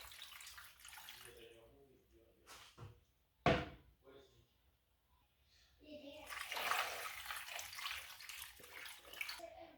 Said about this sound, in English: I go ahead and add my water